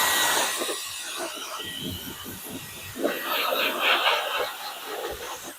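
Compressed air blasts dust off cut Kaizen foam, producing close, hissing gusts in uneven bursts with a stronger, louder blow partway through.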